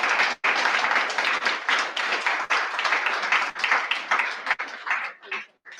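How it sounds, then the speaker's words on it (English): Audience applause for the panelists at the close of a metaverse and fashion panel discussion, a dense, steady wash of many hands clapping for nearly six seconds, briefly dipping once early on and thinning out toward the end. "let's give them a round of applause"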